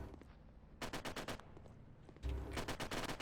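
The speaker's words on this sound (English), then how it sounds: "That Sherman's doing a good job of laying in some pretty brutal fire, keeping up the machine gun fire" Machine gun fire from a Sherman tank in the WW2 Online game, two rapid bursts of shots separated by a short pause, moderately close and with no talk.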